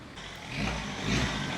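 A Rover 75 with a BMW diesel engine runs at a steady idle, a low mid-pitched hum with slight swells, heard fairly close but at modest level.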